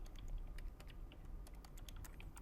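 Quick keystrokes on a computer keyboard, a light, steady patter of clicks lasting a couple of seconds over a faint background hum.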